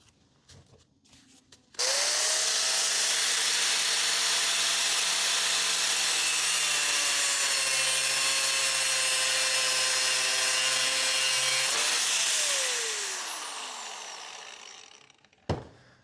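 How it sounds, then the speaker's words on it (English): A handheld grinder fitted with a steel cutoff blade cutting through metal, a loud close whine that starts abruptly, holds steady for about ten seconds, then winds down as the disc spins to a stop. "I'm just going to cut it with a steel cutoff blade on my grinder."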